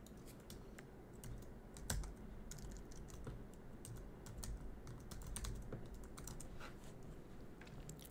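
Rapid keystrokes on a computer keyboard while a password is entered to sign into a Splunk server, a steady run of light clicks with a few sharper taps, fairly close and alone.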